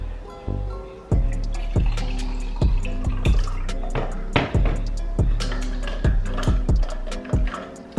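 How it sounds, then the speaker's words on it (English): Homemade Mexican horchata poured over ice, a series of sharp clinks and splashy drips as the liquid hits the ice, close and irregular against a low steady hum. "Okay, I'm gonna go ahead and pour."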